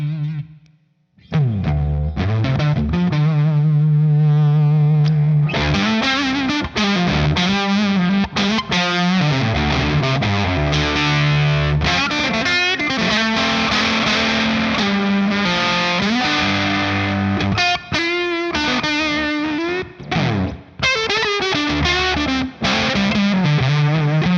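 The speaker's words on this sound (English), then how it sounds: "here's what a fuzz with a completely clean amp sounds like" An electric guitar played through an OCE Wrench fuzz pedal into a completely clean amp rings out in loud, saturated, buzzy sustained notes and riffs, with no talking.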